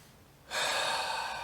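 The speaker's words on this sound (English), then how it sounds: "Breathing in deeply." One deep, long inhale during meditation, starting after a quiet pause and holding as a steady, airy rush through to the end, close and clear with no talking.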